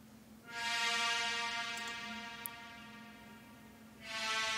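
A high-passed reverb tail on bright synth highs in a future garage track, swelling into a sustained, airy wash with a soft rush like sea waves, fading slightly before rising again near the end.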